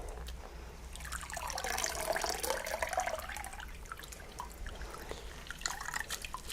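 Warm water drips and trickles softly as a massage tool is wetted, with faint splashing and close, quiet liquid patter.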